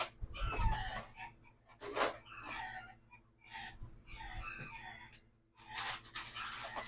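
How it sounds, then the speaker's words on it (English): Chickens clucking and squawking nearby in short irregular bursts and calls, fairly faint, with a low background hum. "The chickens are going at it."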